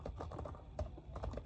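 Rapid typing on a Xiaomi Pad 5 keyboard running Windows in Microsoft Word: a steady, dense stream of close, clicky keystrokes with an occasional heavier thump, no voices.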